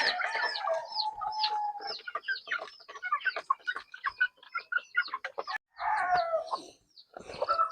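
Domestic chickens and a rooster on a backyard poultry farm in Basilan clucking and calling continuously at close range, with overlapping squawks and a brief crow-like call, no talk.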